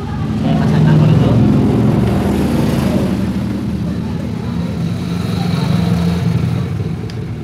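A Honda Beat FI scooter with an ignition fault runs after starting, giving a steady, rumbling idle with a slight rise early on, while a person talks over it.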